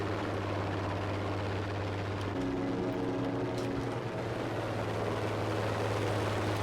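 Fighter plane engine in Battlefield 5 air combat: a steady, loud droning propeller hum that shifts pitch partway through, continuous and close with no talk over it.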